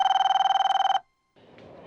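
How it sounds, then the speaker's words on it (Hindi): A mobile phone rings with a rapid, trilling electronic pulse for about a second before cutting off abruptly, leaving a short silence and then a faint background hiss. "शायद मोबाइल फोन कंपनी वाले का फोन"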